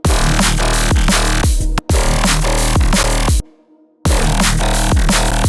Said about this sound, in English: First one's going to be this main bass.